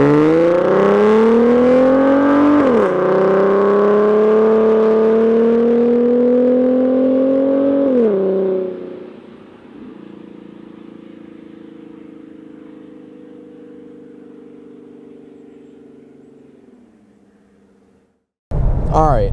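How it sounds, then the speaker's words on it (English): A 3.7 V6 Mustang with a Borla S-Type exhaust drones loud and close, revving up twice before settling to a lower steady idle that fades, then a brief loud burst at the end. "I love the exhaust. It sounds good"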